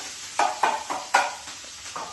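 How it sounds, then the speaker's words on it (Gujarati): Puffed rice being tempered in a hot pan: a handful of quick scraping, rustling strokes with a light sizzle, spaced unevenly, close by with no talking. "મમરા વઘારી રહ્યા છે"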